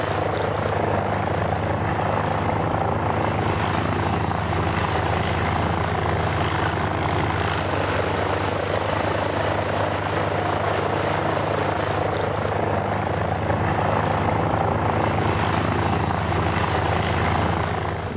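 The engine of an open-cockpit biplane with two wings, a tail and no fuselage, cruising at about 55 at full power, a loud, steady droning roar that holds unchanged throughout.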